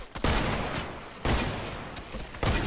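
Rapid bursts of automatic gunfire from a multiplayer video game, three dense loud volleys separated by brief gaps, with no talk over them.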